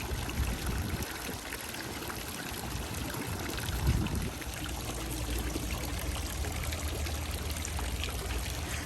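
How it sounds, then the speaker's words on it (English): Water streaming steadily from frog-shaped fountain spouts on the grounds of Disney's Port Orleans French Quarter resort, a continuous splashing trickle and pour that stays fairly even throughout. "I love how the frogs are spitting out water"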